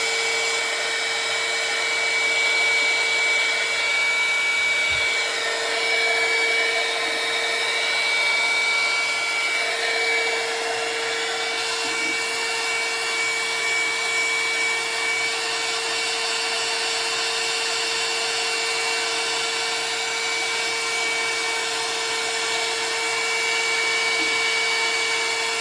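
A hair dryer blows continuously and loudly for the whole stretch, heating paint on a painted figure's torso, as a steady close whir with a constant motor whine.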